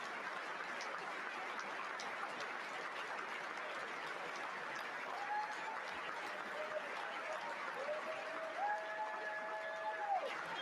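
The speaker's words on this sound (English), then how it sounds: "They're still clapping." Sustained, dense applause fills a large chamber during a speech by the Israeli prime minister to the US Congress, steady and moderately distant, with a few faint voices rising through it.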